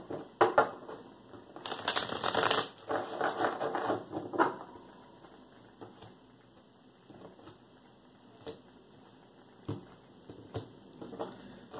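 Tarot cards riffle and shuffle in quick papery bursts, loudest near the start, then quieter handling and occasional taps follow.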